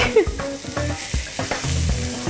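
Steak and onions sizzle and fry in a hot pan, a steady close crackle with occasional scraping and stirring throughout, no talk.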